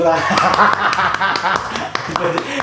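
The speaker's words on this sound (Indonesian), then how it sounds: "Tepuk tangan." A group claps in quick scattered bursts, close and fairly loud, with chuckling and talking mixed over the clapping throughout.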